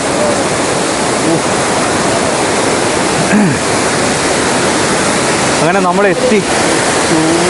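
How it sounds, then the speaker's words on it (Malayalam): A steady, loud roar of the Maranatty waterfall in Attappadi, Kerala, fills the whole clip, with a person talking briefly over the rushing water and blowing mist. "സൂപ്പർ വെള്ളച്ചാട്ടം കേട്ടോ"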